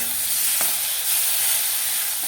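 Tomato paste frying in a pan, a steady broadband hiss close by and alone, with a brief stir or clink about half a second in.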